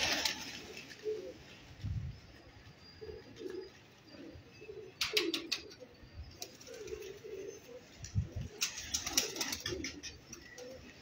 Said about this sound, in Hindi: डब वाले कबूतर हैं